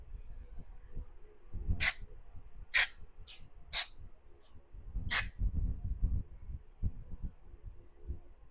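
Several short, sharp hisses of aerosol cleaner sprayed onto an Echo leaf blower carburetor burst out in irregular succession over a low background rumble and light handling noises.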